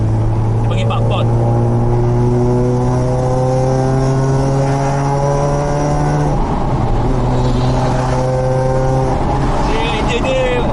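Mazda RX-8 rotary engine running, a loud steady droning hum whose pitch shifts partway through, with a person talking over it.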